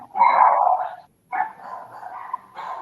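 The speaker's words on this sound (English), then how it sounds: "a dog barking" A dog barks and whimpers at a house, two drawn-out yelping bursts separated by a short pause, then a third starting, loud and close with no talking.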